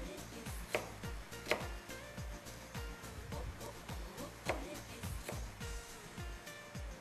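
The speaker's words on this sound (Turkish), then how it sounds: "Soğanlarımızı 3 tanesini şöyle büyük büyük bir doğrayalım" Repeated knife chops on a cutting board as onions are cut into large pieces, an uneven rhythm of sharp close taps with a few louder strikes.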